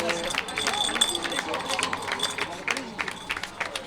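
A crowd at the Paris-Roubaix Challenge cycling event claps and cheers for arriving children, with steady applause and babble of voices around.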